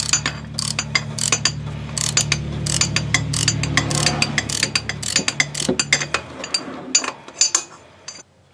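A hand ratchet on a 3/8 extra-long extension with a 13 socket clicks in quick repeated bursts while working under the engine of a 2009 Buick LaCrosse, with metallic clinks and pauses between strokes.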